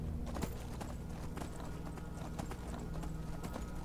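Steady rhythmic clip-clop of horse hooves at a trot in the video game Skyrim, continuous and moderately close, with a faint background hum.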